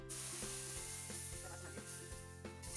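Green prawn masala paste frying in oil and butter, a soft steady sizzle with faint rhythmic mechanical ticking and whine beneath, quiet and without talk.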